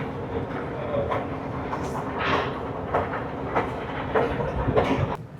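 A Guangzhou metro train rumbles along with a steady, close roar and faint rhythmic clatter from the wheels.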